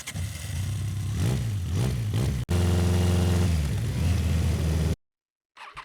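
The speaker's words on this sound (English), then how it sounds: "I've already prepared some sounds in terms of motorcycles" Motorcycle engine sound effects being auditioned for a scene edit: a loud, close engine with rising and falling revs, a brief cut, then a steady high idle-like drone that ends abruptly before a faint tail.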